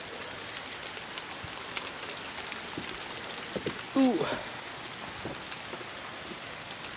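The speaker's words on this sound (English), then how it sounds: "raining outside." Rain falls steadily outside before a possible thunderstorm, a constant soft hiss throughout, with a brief exclamation from a person midway.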